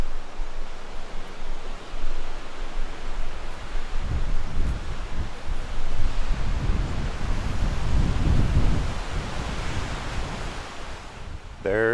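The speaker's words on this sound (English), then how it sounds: "can hear the water. It's got to be over here." Running water of a stream or river outdoors in Wyoming's Buffalo Bill Country, a broad continuous rushing wash heard from a distance, steady throughout with some wind on the microphone.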